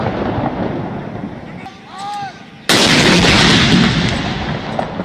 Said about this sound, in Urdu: جن کا آغاز وفاقی دارالحکومت میں 31 اور صوبائی دارالحکومتوں میں 21 توپوں کی سلامی سے ہوا